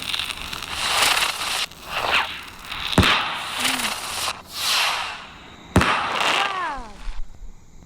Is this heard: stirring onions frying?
no